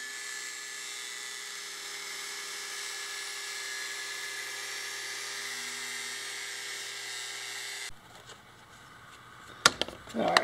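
A cutting disc slices through aluminum on a Tiger Shark motor upgrade, a steady high whining grind for about eight seconds that stops abruptly, followed by a few sharp clanks and handling noises.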